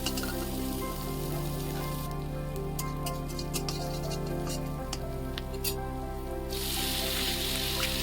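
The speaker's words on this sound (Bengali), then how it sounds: "এই বিনসটাকেও ভালো করে একটু ভাজা ভাজা করে মতন করে নিতে হবে।" Green beans, onion and green chili fry together in a pan, giving a steady, close crackling sizzle with scattered sharp pops over about eight seconds and no talk.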